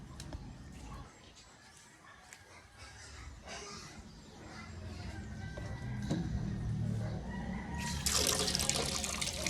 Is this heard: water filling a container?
yes